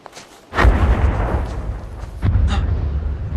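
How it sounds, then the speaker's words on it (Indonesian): A landmine explodes in a film scene with a sudden deep, loud blast. A long rolling rumble follows, and a second heavy burst swells up partway through. "beberapa menit kemudian ranjau itu pun meledak"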